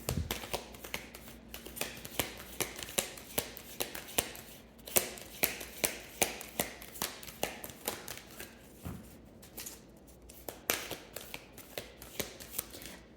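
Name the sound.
tarot cards being shuffled for a closing card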